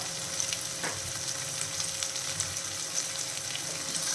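Shallots and curry leaves sautéing in oil over a medium flame for shallot chutney, a soft, even sizzle close by, steady and alone with no talking.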